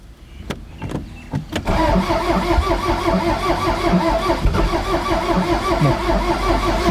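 A Toyota MR2 with a rod knock cranks a few times, then starts and runs with a rough, loud idle and revs. A rhythmic knocking ticks steadily through the engine note, close to the car.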